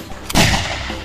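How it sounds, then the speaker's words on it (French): A pump-action shotgun fires a single loud, close blast that booms sharply and then rolls off in a short decaying tail. "Cette arme est le shotgun ou fusil à pompe."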